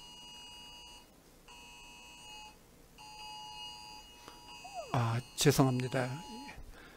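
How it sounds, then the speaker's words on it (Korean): Emergency amber alert tones sound from several mobile phones during a church sermon, repeated steady electronic beeps in evenly spaced bursts, followed by a brief spoken apology and rising voices. "갑자기 엠버가 걸려가지고 전화기들에서 다 소리가 났어요"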